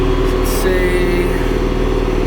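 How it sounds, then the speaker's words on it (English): An old tractor engine idles low and steady, with a continuous rhythmic chug close to the microphone and no talk over it. "See how low we can get it to idle."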